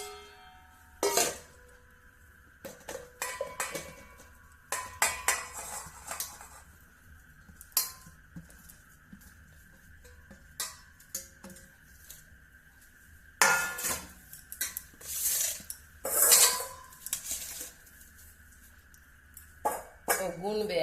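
Puffed rice served into bowls of aloo kabli, with scattered clinks of spoon and steel bowls in a home kitchen, some louder bursts of clatter between pauses, and people talking throughout.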